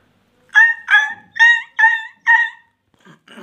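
A human voice imitates a puppy barking: five sharp, evenly spaced yips, close and loud, then a couple of fainter trailing sounds.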